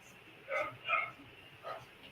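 Dogs bark in three separate short bursts spaced across a couple of seconds, moderately loud over a quiet background.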